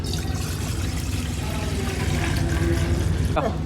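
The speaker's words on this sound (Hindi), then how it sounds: "तो अभी डाल लेते हैं जी इस बर्तन में पानी" Water pours steadily into a cooking pot set on a stove, a continuous loud splashing gush that runs the whole time and cuts off at the end.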